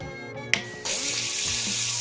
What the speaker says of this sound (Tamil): இன்னும் சுவிட்ச் போட்டா பைப்ல தண்ணி வருது